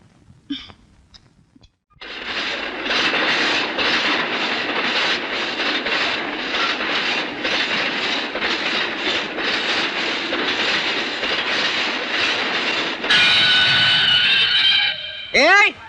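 A passenger train rumbles steadily at close range, a loud continuous roar of wheels and carriages with a shrill screech near the end.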